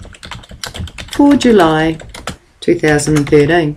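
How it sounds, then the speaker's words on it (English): Computer keyboard keys are typed in quick, light clicks while someone speaks over them in an office software setting. "I'm going to type the subject brochure"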